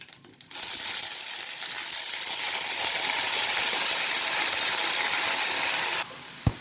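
Broad beans tumble into a hot pan with curry leaves, setting off a loud, steady sizzle that holds for several seconds alone before cutting out, followed by a single faint clink.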